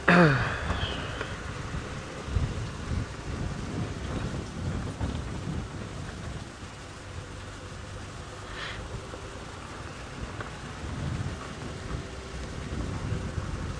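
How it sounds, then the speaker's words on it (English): Heavy rain pours steadily around an open vehicle on a winter safari drive, with a low rumble of thunder at the start and a dense, continuous patter of drops throughout. "Can see this rain pouring in now from the front."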